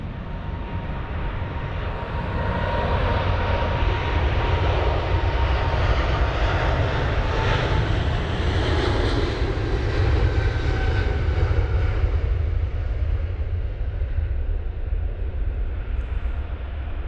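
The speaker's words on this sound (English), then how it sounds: "Got the American 777-300ER rocketing out of London Heathrow, 27 right off to Los Angeles LAX" An American Airlines Boeing 777-300ER, about ten years old, takes off from runway 27R at London Heathrow during a storm, its engines a loud, sustained broadband roar lasting throughout with no talk.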